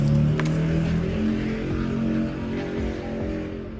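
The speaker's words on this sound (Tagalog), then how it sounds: "Ayan, dumaan yung tricycle, ang ingay niya." A noisy motor tricycle passes close by, its engine a loud, steady drone with rough low harmonics that holds for several seconds and then eases slightly as it moves away. No one speaks.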